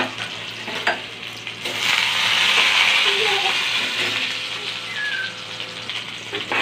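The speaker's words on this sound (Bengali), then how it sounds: "তেলটা গরম হয়ে গেছে, কালো জিরে ফোড়নে দিয়ে দিলাম, কেটে রাখা রসুন কুচি," Nigella seeds and chopped garlic hit hot oil and set off a steady, close sizzle and crackle. It swells to a dense hiss midway, then eases a little, with occasional stirring scrapes.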